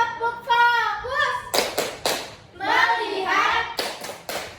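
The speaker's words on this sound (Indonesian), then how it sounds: "Tepuk fokus." Fourth-grade primary school pupils doing a focus clap in class: children chant together in unison, broken by loud clustered bursts of hand claps in rhythm, close and lively.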